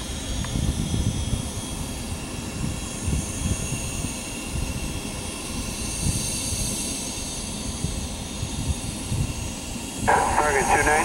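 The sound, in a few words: American Airlines Boeing 737-800 jet at airport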